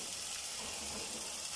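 Chickpeas and their soaking water pour into a pan of cooked masala for Amritsari chole, giving a steady close gush of liquid splashing for the whole moment.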